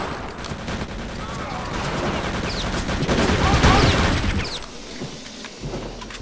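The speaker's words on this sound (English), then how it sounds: "Because he keeps shooting that fucking gun." In Return to Castle Wolfenstein, rapid gunfire rattles in steady bursts that build to a louder peak midway, then fall away to quieter shots, with players talking over the game audio.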